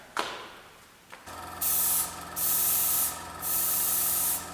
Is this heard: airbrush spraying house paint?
yes